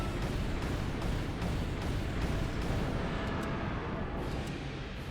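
Dense rumbling blasts and booms fill a monster-battle video game scene, loud and continuous throughout with little pause, explosions and gunfire-like bursts stacked over one another while a voice can be heard faintly beneath.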